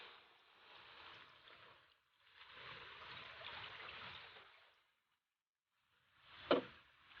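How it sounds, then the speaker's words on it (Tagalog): Water pours into a cooking pot holding pork hocks and banana blossom in two long splashing runs, then a short burst and a thud, at low level and close by. "Siyempre, lalagyan natin ng tubig"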